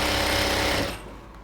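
A sewing machine runs loud and close, stitching elastic onto the waistband of a ladies' pant in one continuous whirring burst that eases off near the end.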